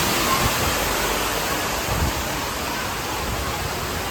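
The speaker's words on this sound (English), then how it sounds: "we're going to walk underneath this little waterfall" A steady, loud broadband rush of falling water, constant throughout with no voices, like standing close to a small waterfall beside a pool at a resort.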